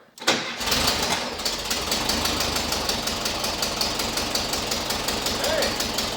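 A rusted Volkswagen Bus with a newly installed engine cranks and fires, then runs steadily with a loud, continuous rhythmic chug close by, with a faint voice in the background.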